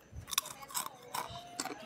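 A crunchy salty snack is bitten and chewed close to the microphone, producing about four sharp crunches spaced evenly in a quick rhythm, with no talking.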